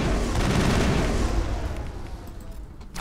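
Sniper fire and explosive gunfire bursts in the sci-fi shooter Mass Effect (2007) during a colony battle, dense and loud at first, then thinning and fading over a few seconds.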